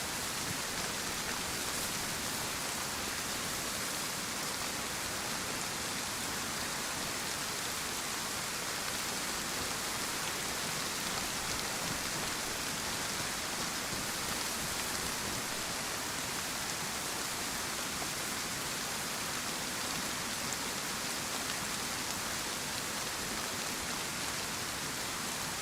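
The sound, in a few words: rain falling in a forest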